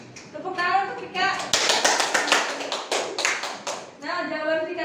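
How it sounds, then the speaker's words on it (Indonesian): Children clap in a classroom for a classmate, a burst of scattered, uneven hand claps in the middle, with a teacher's voice speaking before and after. "Tepuk tangan untuk Pika."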